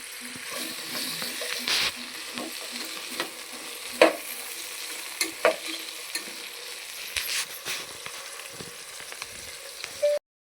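Tomato and ginger fry in a pan for kusuka, a steady close sizzle broken by repeated scraping stirs of a spoon against the pan, with no talk.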